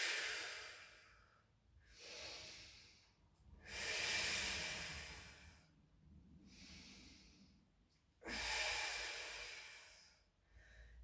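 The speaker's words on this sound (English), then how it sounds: "exhale." Slow, deep breaths during a Pilates mat exercise, long airy inhales and exhales alternating in a steady rhythm, close and fairly soft, with no talk.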